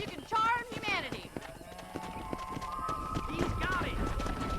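Horses galloping in the Red Dead Redemption video game while herding cows, a steady clip-clop of hooves with an occasional whinny, running under game music and overlapping voices.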